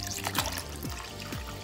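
Gummy bunny candy dropped into a container of water, giving a few small splashes and trickling drips in quick succession, close and fairly clear, with no voices.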